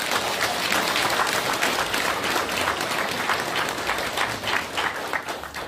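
Audience at a Democratic Party political event applauding after a congratulatory speech, a steady, dense burst of many hands clapping that tapers slightly near the end.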